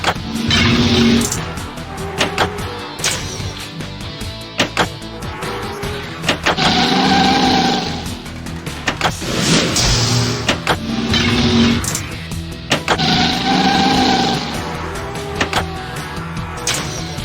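Race cars roar past in the 3D Ultra Pinball NASCAR computer game, loud engine whooshes swelling and fading in repeated passes, with sharp clicks and pinball-table clatter cutting in between.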